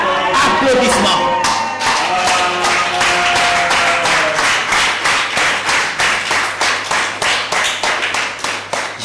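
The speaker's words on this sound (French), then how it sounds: "Applaudissements." An audience applauds at a religious gathering, dense clapping that gradually thins into a slower, rhythmic clap, with a voice audible near the start.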